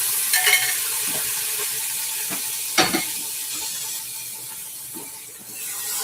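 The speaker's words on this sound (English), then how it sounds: "I will sear it like for 4 minutes on one side" A lamb roast sears in an Instant Pot with a steady close sizzle, broken by a few sharp crackles and soft scrapes as the meat is moved, and no talking.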